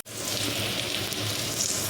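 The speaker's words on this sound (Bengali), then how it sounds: "এই যে পেঁয়াজটা হালকা লাল ভাজা হয়ে গেছে" Sliced onions frying in a pan turning light brown, giving a steady, close, continuous sizzle with no talking.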